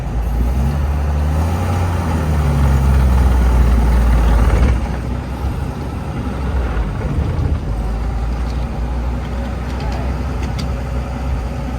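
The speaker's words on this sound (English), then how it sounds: "one riding demonstration on a 100-year-old Packard" A 1924 Packard Single Six touring sedan engine rumbles steadily while driving, a loud low drone with road and wind noise, and a voice talks over it throughout.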